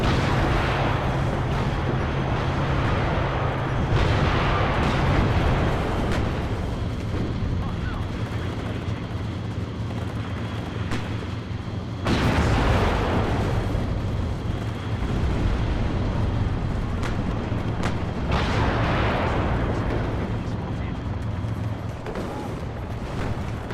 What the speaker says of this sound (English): There's another artillery strike.